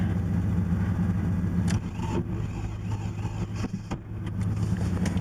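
A 1980 Porsche 924 Turbo (931) on a cold start attempt, likely with a bad ground, a low steady engine rumble with uneven surges and several sharp clicks and knocks, close up and without voices.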